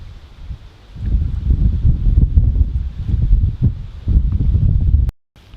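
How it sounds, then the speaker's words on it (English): Cold wind gusting outdoors while bass fishing, low blustery buffeting against the microphone in uneven surges, loud and close, cutting off abruptly near the end. "Especially right now, it's cold and windy."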